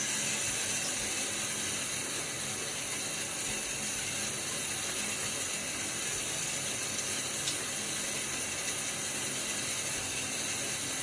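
Water runs steadily from a sink tap to rinse a Blackland Dart safety razor after a shave, a continuous hiss of flow that holds at an even level throughout with no talking.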